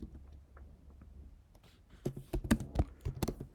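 A computer keyboard is typed on while a form is filled in, with soft scattered keystrokes at first and then a quick burst of louder, closer clicks.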